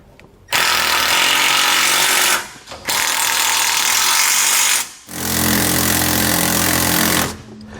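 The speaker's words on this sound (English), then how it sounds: "Now that we've got all the hardware loosely installed, we can go back and tighten it all down." A power tool drives home the factory-size bolts of a Roadmaster front anti-sway bar on a 2019 Chevrolet Express van in three loud, close, sustained bursts of a few seconds each, with short pauses between them and no talk.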